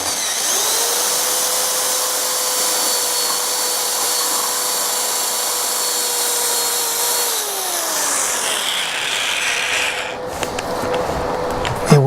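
A Black & Decker drill spins a Forstner bit into wood, a steady high motor whine holding for several seconds, then slowing in pitch before it stops and gives way to some rattling handling noise.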